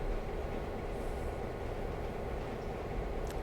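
A passenger train passes on the railroad, giving a continuous, even rumble with a dense low roar and no distinct wheel clicks, steady and fairly close for the whole stretch.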